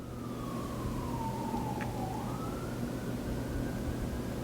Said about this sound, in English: You hear that fire engine?